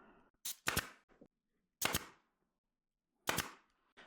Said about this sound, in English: I'm going to drive a pin nail about right here because I have a 1-inch pin nail